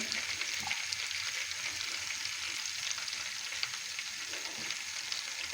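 Bread soaked in sauce sizzles steadily in hot butter in a pan. The frying hiss is continuous, close and even, with no talking over it.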